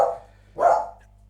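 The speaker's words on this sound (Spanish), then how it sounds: "disculpen los perros" Dogs bark in two short, fairly close bursts separated by a brief pause, with no talking over them.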